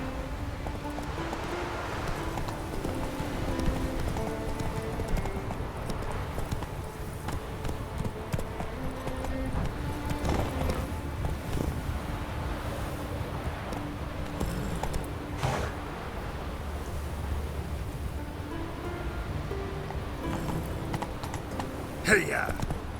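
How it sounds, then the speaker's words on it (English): Roach the horse galloping in The Witcher 3, a steady drumming hoofbeat under game music and a voice calling out. "Giddy up. Not so fast, Roach"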